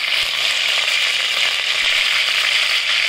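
Curry leaves sizzling in hot oil for a crab gravy, a steady, loud, close crackle and hiss that holds evenly throughout with no voices.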